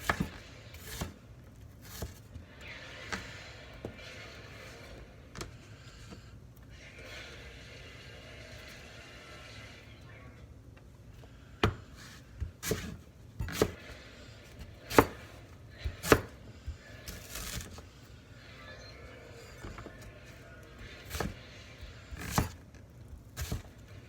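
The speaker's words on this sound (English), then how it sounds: "Cut them into tiny bits." A kitchen knife chops food into tiny bits on a board. Sharp, irregular chops come faintly and sparsely at first, then grow louder and more frequent, with a quiet low rumble underneath.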